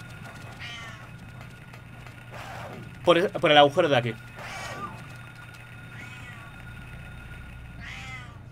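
A person voices a series of cat meows in imitation while playing the PSX horror game Silent Hill on Hard, the mimicked cries rising clearly for about a second amid spoken commentary and faint game background.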